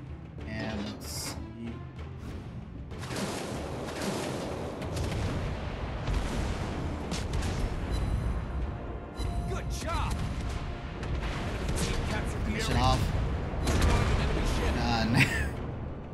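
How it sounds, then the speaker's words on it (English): Naval gun salvos booming in World of Warships during a Tier X Alvaro de Bazan match, heavy rumbling blasts and explosions over continuous battle noise, with someone talking throughout. "And fire from that last salvo."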